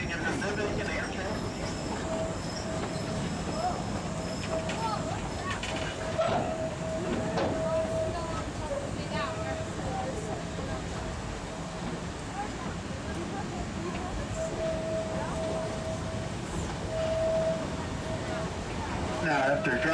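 A narrow gauge train on the Georgetown Loop Railroad rumbles steadily along its three-foot track with a continuous rolling drone, while someone narrates throughout over the noise.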